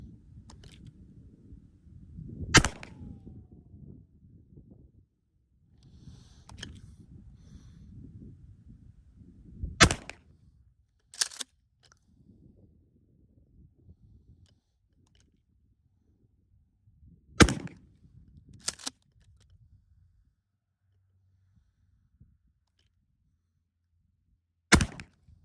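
Shots from a Poverty Shockwave firearm during sighting, several sharp loud reports spaced seconds apart at the firing position, with quieter rustling and handling sounds between them.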